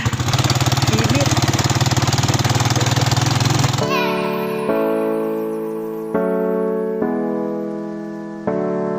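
An engine rumbles loudly through its exhaust pipe with a rapid, pulsing throb for about four seconds, then cuts off abruptly and is followed by a few ringing, fading tones.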